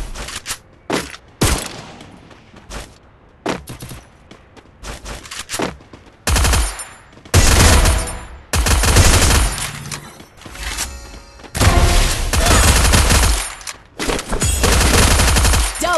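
SVD and MP40 gunfire in a solo-versus-squad shooter video game, bursts of rapid automatic fire and sharp single shots, loud and close, coming in repeated clusters with short quiet gaps.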